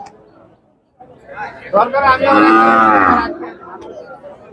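A local Bangladeshi cow at a cattle market in Shariatpur gives one long, loud, drawn-out moo close by, with faint murmuring voices and background chatter before and after.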